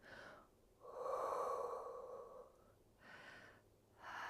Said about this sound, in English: So you can hear me breathing.